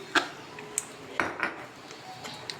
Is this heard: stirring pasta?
yes